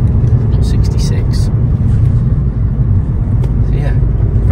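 A 2017 Ford Fiesta ST-Line with a 1.0-litre 125 bhp EcoBoost turbo engine driving along a road, giving a steady low rumble of engine and road noise that holds throughout, with brief faint higher noises above it.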